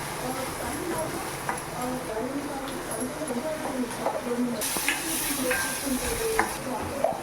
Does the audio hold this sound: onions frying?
yes